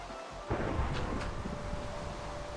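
Thunder and steady rain during a storm in the video game Minecraft, a loud rumbling roll opening after a brief pause and then continuing as a dense wash of rain with further low rumbles, with no one talking.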